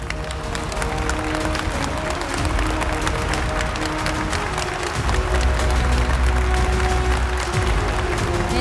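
Audience at an awards ceremony applauding steadily and densely throughout, a sustained wash of clapping hands from a large indoor crowd, with some faint voices underneath.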